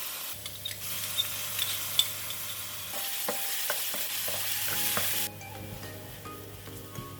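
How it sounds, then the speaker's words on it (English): Garlic sizzles and spits in hot onion oil in a pan for noodles with shiitake mushroom, a steady broadband frying hiss with a few clinks of a utensil stirring, which softens toward the end. "When the pan is hot, I'm going to put in the garlic"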